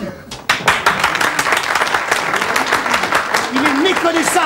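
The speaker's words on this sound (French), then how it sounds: "On les applaudit." A theatre audience claps for performers as they come on stage, a sharp burst that swells into dense, steady applause. Voices and a singing or speaking performer rise over the clapping toward the end.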